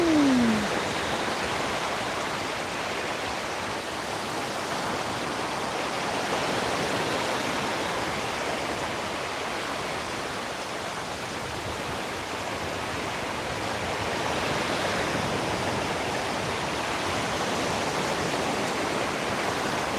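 Ocean water washes at a beach in a continuous, loud, rushing wash that swells gently around the middle and again near the end, with no voices.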